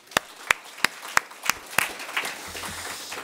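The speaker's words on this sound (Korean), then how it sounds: "우리 하나님께 감사의 박수 한번 드리겠습니다." A Korean church congregation at a morning worship service claps in thanks to God: six crisp, evenly spaced claps in unison, then looser scattered clapping that thins out, with a low murmur entering near the end.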